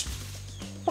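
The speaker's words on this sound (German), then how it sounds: "Die sind super laut, die Hühner." Chickens in the Peruvian jungle cluck softly nearby, with a brief louder cluck near the end over faint background hum.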